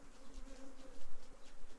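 Honey bees buzz steadily at an overwintered Apimaye hive, a close, continuous low drone with slight swells in loudness and no other sounds.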